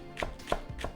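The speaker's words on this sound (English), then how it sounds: "Chop the green part finely." A knife chops the green part of a spring onion finely on a cutting board, giving three crisp, evenly spaced taps close up in a quiet kitchen.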